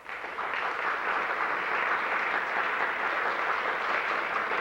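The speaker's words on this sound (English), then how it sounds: "a round of applause for Carrie Odell of our staff" Steady applause from a crowd, a continuous even wash of many hands clapping at moderate loudness, with no voices standing out.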